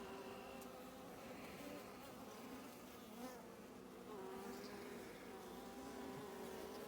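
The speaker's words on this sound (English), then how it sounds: "those are the drone bees" Many honeybees, including drones, buzz together in a continuous, wavering drone, fairly quiet and close, like the hum inside a busy hive.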